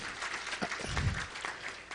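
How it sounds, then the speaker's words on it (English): Audience applause at the Kenya Power Expo 2022 after a presentation, a short burst of steady clapping from a crowd, close and moderately loud, with faint voices mixed in. "Let's give her another round of applause."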